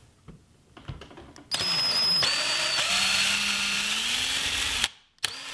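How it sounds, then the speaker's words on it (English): Power drill boring holes into wooden table bracing, a steady close whirring drone that runs for a few seconds after faint handling noises, then stops abruptly. "I've decided that I want to drill two holes close to the center"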